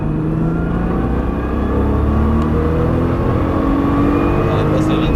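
A Nissan GT-R driven hard around the Albi circuit, its engine droning loudly and steadily from the cabin with rising revs and a gear change, while a coach talks over it.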